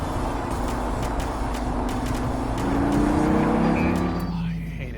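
A car's engine revs during a midnight drag racing and car-building outing, a heavy, truck-like rumble that swells in the middle and then eases off, heard from inside the vehicle with people talking over it.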